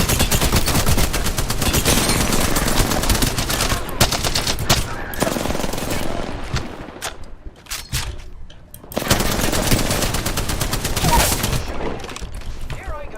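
Dense, sustained video-game gunfire: rapid automatic bursts fill most of the stretch, briefly thin to scattered shots midway, then return at full loudness, with a voice speaking over it.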